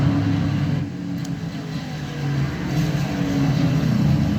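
Stock race cars roll down pit road at Charlotte under caution, a steady mid-range engine drone that holds fairly even throughout, close by, with no talk over it.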